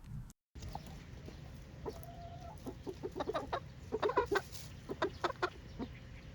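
Chickens cluck on a farm plot, a cluster of hens making repeated short, throaty clucks at an irregular rhythm, moderately near, over a steady low outdoor hum.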